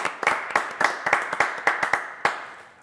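Sharp individual hand claps at a fairly quick, somewhat uneven rhythm, close and clear, a small group applauding a performer before her song.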